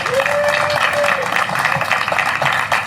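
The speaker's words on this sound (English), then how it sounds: "let's give them a round of applause" A city council debate audience in Leander breaks into loud, sustained applause for the candidates, a thick continuous clatter of many hands clapping close by without letting up.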